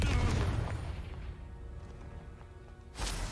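A Confringo spell in Hogwarts Legacy bursts with a heavy boom that rolls off into a fading rumble, followed by a second sharp blast near the end, no voices over it.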